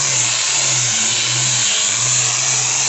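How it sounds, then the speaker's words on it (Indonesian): A power sander smoothing the ceramic grout texture on a speaker box, giving a continuous high-pitched whirring drone with a low hum underneath, loud and close, with no talking. "Ini diambas biar apa bang? Biar halus."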